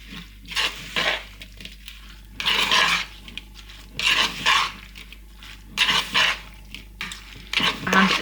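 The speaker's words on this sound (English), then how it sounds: "with your spoon, give everything a good stir" A spoon stirs air fryer enchilada filling in bursts of scraping, rubbing strokes, each lasting about half a second to a second, repeated close up with short pauses between them.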